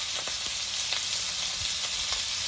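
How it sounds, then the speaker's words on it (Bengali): Chopped onion and green chilli sizzle steadily in hot oil, a continuous hiss with occasional soft pops, close and fairly quiet. "তেলের মধ্যে পেঁয়াজ আর কাঁচা লঙ্কা দিয়ে দিয়েছি"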